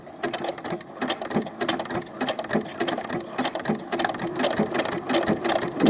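A sewing machine stitches down the outside edge of small doll clothes, its needle chattering in a steady rapid rhythm close by, with brief pauses and restarts and no talking.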